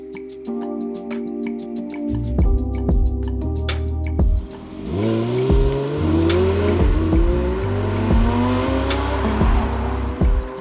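Porsche 992 GT3 RS driven hard, its engine revving up and down through rising pitch sweeps with sharp tire squeals and skids, loud and close throughout.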